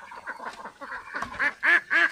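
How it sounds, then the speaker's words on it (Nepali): Ducks by a riverside in Nepal quack in a run of calls, a few soft ones at first, then three loud, close, nasal quacks at the end. "हाँसहरू"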